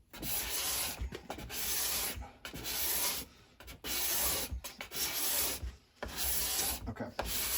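A steel file is drawn across the edge of a card scraper in steady rasping strokes, about five close, loud, grinding passes separated by short pauses, with no talk.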